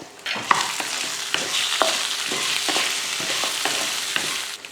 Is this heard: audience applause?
no